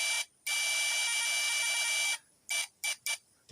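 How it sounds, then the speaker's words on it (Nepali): A multimeter on continuity test gives sharp, high electronic beeps: one long tone lasting nearly two seconds, then three short beeps in quick succession, close and clear. "यो चाहिँ कन्टिन्युटीमा चेक गर्दा चाहिँ बिपको साउन्ड आउने"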